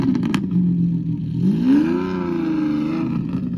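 A restomod car engine at Car Week 2024 gives a few sharp clicks, then revs up in a smooth rising sweep and settles into a steady, throaty hum, heard close up.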